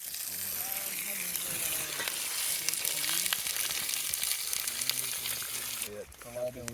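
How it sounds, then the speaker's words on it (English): Fish sizzles and fries on a heated rock outdoors on a wild coast, a steady close crackling hiss that runs throughout, with a few voiced tones and a brief shift near the end. "So me and Jeremy here are going to heat this rock up and just cook the fish right on the rock."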